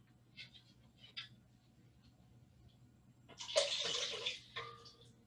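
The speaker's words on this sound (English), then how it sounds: "So I'll add some water to our bowl." Water poured into a bowl during an indoor ceremony, a short splashing pour after a few faint clinks, quiet and close against a low background hum.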